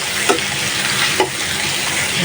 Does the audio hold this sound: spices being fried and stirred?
yes